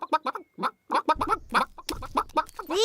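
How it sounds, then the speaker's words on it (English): Cartoon chickens cluck in quick, choppy bursts near the listener, several birds overlapping in short, busy phrases that end in a rising squawk. "These chickens don't look dangerous."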